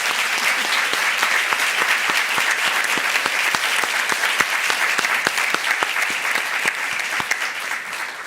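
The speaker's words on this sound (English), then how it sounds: "Can you please give the candidates a round of applause?" An audience at a school board candidate forum applauds the candidates, steady dense clapping with distinct individual claps popping through, sustained for several seconds and fading slightly at the close.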